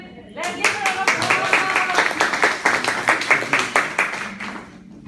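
A room full of people breaks into steady applause, dense overlapping claps lasting several seconds, loud and close, with a voice faintly audible underneath.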